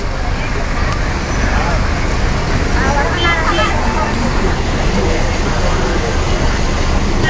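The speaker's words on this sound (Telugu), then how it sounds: "విజయవాడ బస్సు వెళ్తుంది." A Vijayawada bus passing amid steady roadway traffic noise and a crowd's background chatter, loud and continuous, with no clear rise or fall as it goes by.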